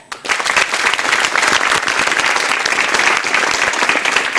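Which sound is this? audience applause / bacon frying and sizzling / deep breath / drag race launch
audience applause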